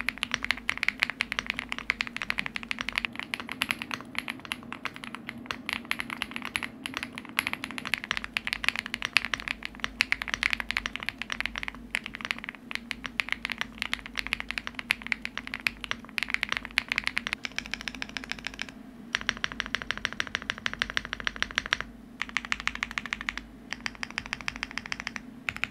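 Close, rapid typing on a Bridge75 mechanical keyboard in stock configuration, a dense stream of crisp key clacks with brief pauses and bursts, no talking.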